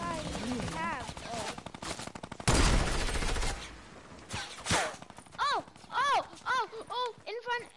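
Bursts of video game gunfire from an enemy with heavy ammo, broad noisy volleys mixed with harmonic tonal sounds and effects, fairly loud and continuous, with a person talking over parts of it.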